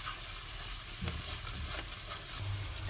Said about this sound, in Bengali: এখন সব মশলাগুলো আমি একটু কষিয়ে নিব